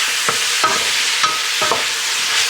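Vegetables sweat in a hot pan while being stirred, giving a loud, steady sizzle broken by four or five spaced scraping strokes.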